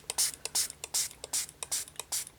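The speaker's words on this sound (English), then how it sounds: "I've got a very fine spray here, and we'll just do a small section to start with." A fine spray mister sends short hissing bursts of water onto a board, about a dozen quick pumps in a steady rhythm, close and quiet, with no talking.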